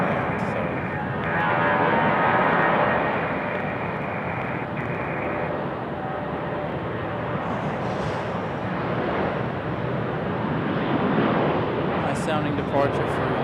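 A United airliner departs from the runway at Raleigh-Durham International Airport, a loud, sustained jet roar that swells and slowly fades into the distance, heard alone.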